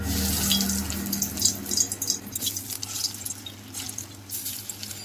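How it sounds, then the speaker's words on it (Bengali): Prawn and masoor lentil fritters go into hot oil in a pan, making a close, bursty crackling sizzle that settles into uneven spitting with no voices. "তেলটা গরম হয়ে গেছে, এবার আমি বড়াগুলো ভেজে নেব"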